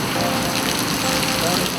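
Heavy rain pours steadily on a film set, a dense, continuous hiss of drops striking surfaces throughout, loud and close.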